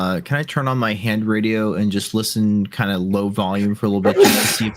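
A single sharp sneeze bursts out near the end, right after a stretch of continuous close-up speech from a talking voice.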